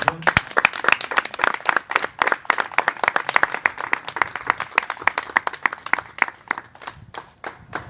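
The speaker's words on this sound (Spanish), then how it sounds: "Le brindamos otra vez un fuerte aplauso a Sergio." Audience applause at a talk, a small group clapping in a fairly close, rhythmic patter that builds then gradually thins out over several seconds.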